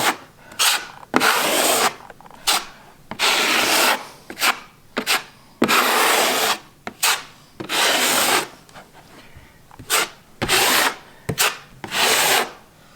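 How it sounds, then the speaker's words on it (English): Hand sanding of dried wall filler before painting, a series of loud, close rasping strokes in uneven bursts with short pauses between them. "Oof, this needs to be sanded a little bit."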